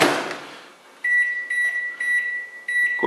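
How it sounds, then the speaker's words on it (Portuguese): Microwave oven beeping while heating milk for a cappuccino: a series of short, bright electronic beeps in an uneven pattern following a brief rustle, close and fairly loud. "E para isso eu vou usar o micro-ondas."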